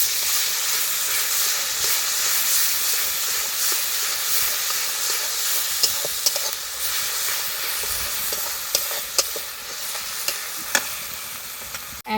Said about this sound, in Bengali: তো আদা ও রসুন দিয়ে খুব ভালো করে ভেজে নিচ্ছি।